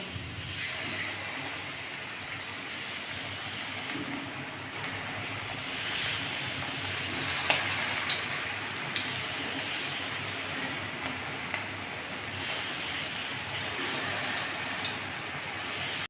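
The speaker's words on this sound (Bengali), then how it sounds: "তেল গরম হয়ে গেছে আমি এখন চপগুলো ভেজে নেবো" Eggplant-potato chops made with fish oil fry in hot white oil in a kadai, producing a soft, steady crackle and fizz like light rain, fairly quiet and unbroken.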